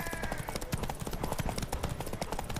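A horse gallops in The Witcher 3 video game, rapid rhythmic hoofbeats pounding continuously and close, with faint game voices in the background.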